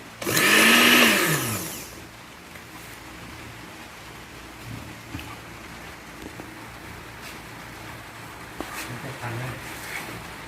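A kitchen blender purees mushrooms for making mushroom spawn, giving a loud whirring burst for about two seconds before it cuts off, leaving quiet room noise with a few faint clicks.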